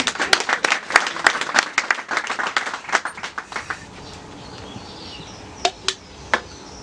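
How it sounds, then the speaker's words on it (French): A crowd at a community presentation in Akanda applauds the husbands: dense clapping for about four seconds that thins into scattered individual claps, then a few isolated loud claps near the end. "Je veux qu'on applaudisse pour les maris."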